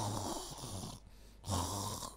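A voice imitating snoring during a youth Sunday school service, with two long, rasping snore-like breaths separated by a short pause, fairly quiet.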